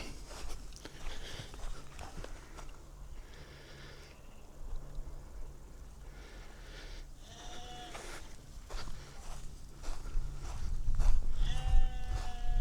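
Sheared sheep and lambs bleat several times at a moderate distance on a Cornish Iron Age hillfort, over a quiet outdoor background, with calls growing louder and more frequent toward the end.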